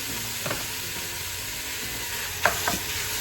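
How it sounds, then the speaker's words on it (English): Mince meat fries in olive oil in a pan for spaghetti bolognese, a steady close sizzle with a few soft knocks and scrapes of a utensil. "We've just got standard mince meat you get in Coles. We throw that in. Throw your mince in."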